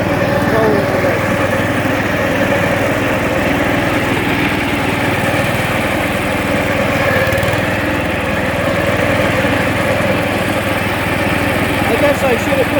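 A Gravely front deck tractor engine runs steadily at a constant idle, a loud and close mechanical drone with a buzzy texture throughout.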